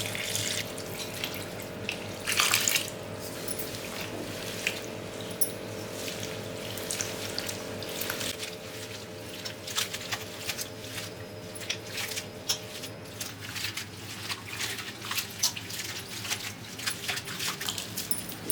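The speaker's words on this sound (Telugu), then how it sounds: "దీంట్లో ఇప్పుడు వాటర్ వేసి మనము కడిగేసుకుందాము" Water runs from a tap over curry leaves being washed, a continuous splashing stream with wet squishes and handling noises as the leaves are rinsed, close and alone.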